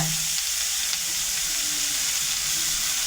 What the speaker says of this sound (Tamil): தக்காளி சேர்த்து தக்காளி கொஞ்சம் வதங்கட்டும்.